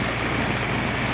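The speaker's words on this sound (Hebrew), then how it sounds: "גשם מבול" Heavy rain pours down steadily on a yacht among Tuamotu atolls, a dense, unbroken wash of noise with no pauses or voices.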